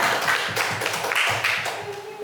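Sparse clapping from a small group in a presentation setting, a few hands patting irregularly at moderate level, with faint background voices.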